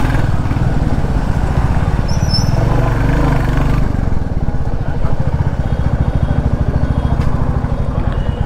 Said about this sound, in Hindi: और थोड़ा ऑफ रोडिंग हो जाए यहाँ पे।